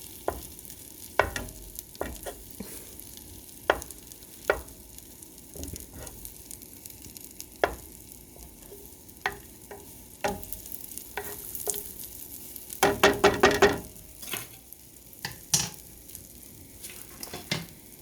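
Butter melting over medium heat in a pan while being broken up, with a soft steady sizzle beneath sharp, intermittent scrapes and clinks of a utensil against the pan, growing busier in a quick cluster of knocks near the end.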